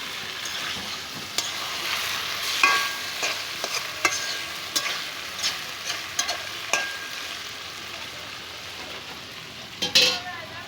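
Meat tossed into a hot pan of spiced onion, garlic and ginger paste for a home Eid curry, sizzling steadily with intermittent scraping and stirring clatters of a spoon against the pot.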